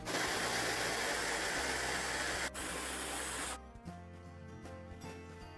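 A blender with an S-shaped blade whirs loudly and steadily while pureeing soaked raisins into a paste. After a brief dip, it keeps grinding until the motor cuts off partway through, leaving a fading hum and light rattles.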